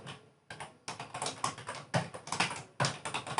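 Rapid, close clatter of keys on a computer keyboard as a password is typed, in short bursts with brief pauses, no talking.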